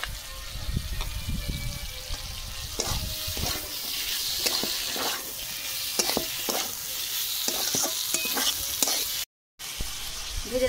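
Boiled bamboo shoots fry in a pan with turmeric and panch phoron while a spoon stirs them, giving a steady sizzle under repeated scraping strokes close up, with one brief dropout near the end and no talk.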